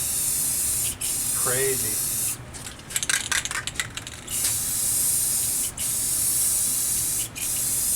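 Black paint hisses steadily from a spray can over a stencil for an arcade cabinet restoration, the long continuous spray broken by a few short pauses and a rattly burst midway, with a brief voice exclaiming.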